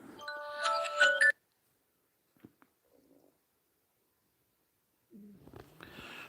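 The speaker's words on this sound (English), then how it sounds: "I had an alarm on my phone set." A brief electronic phone alarm tone sounds for about a second, then near silence with a few faint clicks before someone starts speaking.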